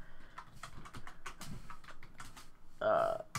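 Computer keyboard typing during a game tutorial, a quick run of light key clicks, close and fairly quiet, with a brief voice near the end.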